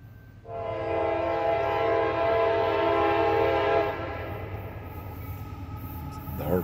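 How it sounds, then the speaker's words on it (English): A CSX freight train sounds its horn as it approaches, a loud sustained multi-tone blast lasting about three seconds, followed by the low rumble of the train continuing. "I hear that train coming."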